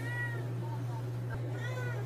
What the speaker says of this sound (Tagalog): Ang ating demanding na pusa.